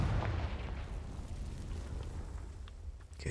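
A Confringo fire spell bursts in Hogwarts Legacy, giving a loud, rumbling explosion that roars steadily for about three seconds before a fresh crackling burst at the end.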